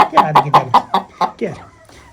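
A hen, kept on a farm alongside a rooster, clucks in a short run of evenly spaced bursts, close and fairly loud, tapering off into softer scattered sounds.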